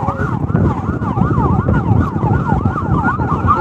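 An ambulance siren wails close by with a rapid, repeating up-and-down sweep, loud and continuous over low road and engine rumble.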